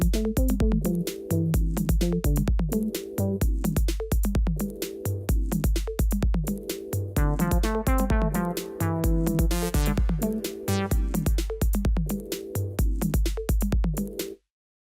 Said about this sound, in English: There are some creative things that you can do with clip playback on the MC101